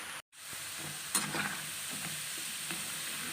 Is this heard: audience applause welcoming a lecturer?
no